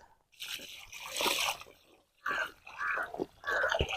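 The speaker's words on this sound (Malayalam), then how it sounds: "നമുക്ക് വെള്ളം ഒഴിച്ചു കൊടുക്കാം" Water poured over freshly planted lesser yam, a wet splashing trickle onto soil in two close bursts with a short gap between them.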